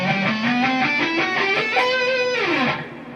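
Distorted electric guitar plays the opening section of a solo, a loud sustained lead line climbing in slides and bends before dropping away, played alone and close.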